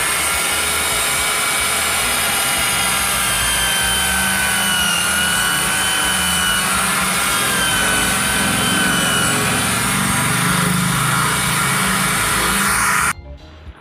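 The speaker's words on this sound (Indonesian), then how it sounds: "selanjutnya kita bor sesuai dengan ukuran lubang jari" A power drill boring a finger-sized hole through a cut coconut shell ring, giving a loud, steady whine and grind that runs without a break for about thirteen seconds, then stops abruptly.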